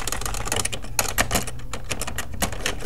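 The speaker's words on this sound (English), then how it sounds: "we can just type in barcode" Fast, steady keystrokes on a computer keyboard, close and clear, with a dense patter of clicks and no talking.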